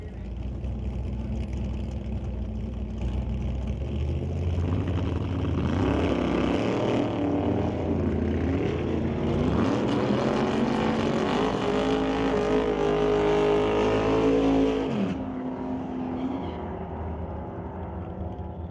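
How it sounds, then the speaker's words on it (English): Drag race between a Super Combo Chevy 2 and a Chevy S10 in a Super Pro class, engines rumbling at idle, then roaring loudly together down the strip before cutting off sharply to a distant hum. "Warren Jacobson brings up his Super Combo Chevy 2 to race against John Jenkins in the West Coast Building Restorations MRI Supply Chevy S10"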